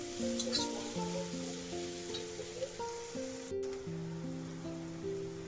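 Chopped onion fries in hot oil with ginger-garlic paste and cumin, giving a steady, soft sizzle under a continuous background tone.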